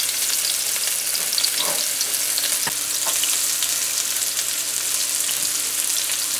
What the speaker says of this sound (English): So we're gonna fry up our onions a bit.